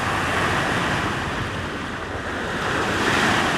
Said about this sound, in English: The waves coming in. That boat just went by, that big old freighter bringing in them waves.